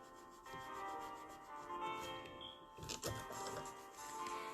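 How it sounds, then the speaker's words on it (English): A fingernail is wiped with a lint-free pad soaked in 91% alcohol to remove the sticky gel layer, giving a soft, steady close-up rubbing and scuffing that continues throughout, with brief taps near the end. "I'm just taking it on a lint-free pad and I'm wiping off the nail."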